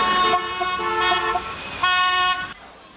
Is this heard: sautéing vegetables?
no